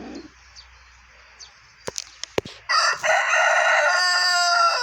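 Close, loud rooster crow rising and holding at the end, after a few sharp clicks and quieter clucking from nearby birds.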